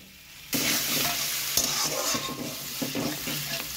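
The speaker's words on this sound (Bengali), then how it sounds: "এরকম কষাচ্ছি একটুখানি" A paste of ground ginger and cumin with dried red chilli and cumin seeds is stirred and fried in a pan, sizzling steadily and loudly with repeated scraping strokes from a spoon, alone without talk.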